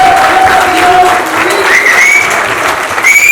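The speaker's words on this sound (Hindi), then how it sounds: "जोरदार तालियां हो जाए" Loud, steady applause from a crowded audience at a stage event, continuous throughout with a few whistles cutting through.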